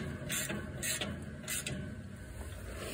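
A wrench ratchets on a bolt being worked loose on a tractor, with short clicking bursts in an uneven rhythm, quiet and close, with no talking.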